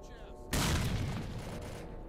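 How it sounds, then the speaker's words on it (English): A grenade explosion in a Ukrainian video game: a sudden loud boom about half a second in, followed by a long rumbling decay that slowly fades. "Oh, someone's throwing grenades."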